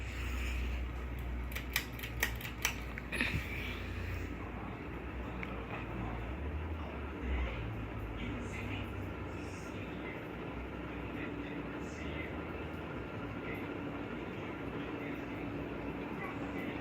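A 52-inch ceiling fan with replacement blades running on high, a steady whooshing drone with a low hum, some early clicking and a voice at the start.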